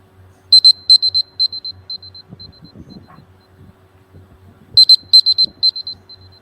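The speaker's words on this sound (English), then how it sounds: "I'll sound a buzzer. So it will sound something like this." An electronic presentation timer buzzer sounds in two bursts of rapid repeated high beeps, loud and close, separated by a quiet gap.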